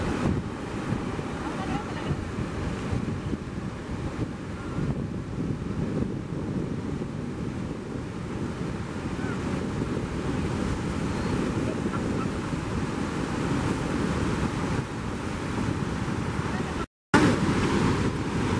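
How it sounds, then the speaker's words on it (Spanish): Waves break on the beach at Montañita, Ecuador, as a constant, loud surf wash, heavily overlaid with wind buffeting the microphone and cut by one brief dropout near the end. "¡Se le vino la ola!"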